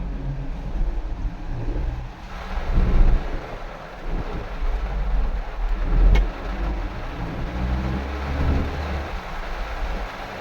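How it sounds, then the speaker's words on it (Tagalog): Heavy rain drums steadily on a car driving along the Skyway in Makati, with a low road rumble underneath and brief louder surges as the downpour intensifies. "Madilim, malakas ang ulan."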